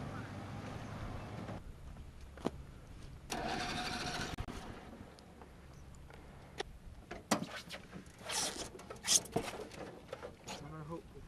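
A small motor on an 8 foot hydroplane boat starting up, short engine bursts and sputters amid outdoor noise, with people talking loudly throughout.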